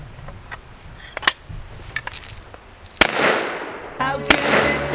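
A Stevens 94F single-shot shotgun fires outdoors in heavy wind, two sharp loud blasts with trailing echo among several smaller clicks and knocks of handling, wind rumble underneath throughout.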